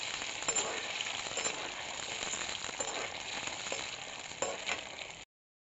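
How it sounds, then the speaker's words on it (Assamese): Steady, dense sizzling of paneer frying in hot oil until lightly browned continues throughout, with a few faint clinks from the pan. "পনীৰখিনি মই এনেদৰে আগতীয়াকৈ ভাজি লৈছোঁ। অলপ ৰঙচুৱা হোৱালৈকে ভাজি ল'ম।"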